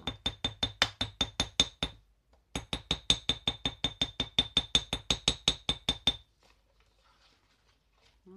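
Rapid metallic taps of a hammer striking a green leaf on a small anvil ring out in two fast bursts, bright and clinking, close by, then stop, leaving near silence.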